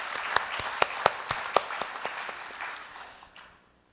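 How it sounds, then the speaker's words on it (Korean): An indoor audience at a rural community campaign launch and forum claps in a brief burst of applause, with sharp individual claps that taper off and fade to silence within a few seconds. "참가자 여러분들 박수 한번 보내주세요"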